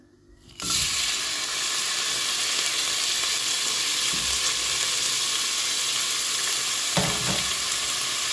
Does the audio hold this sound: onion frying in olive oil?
yes